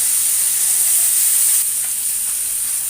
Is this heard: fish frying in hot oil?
yes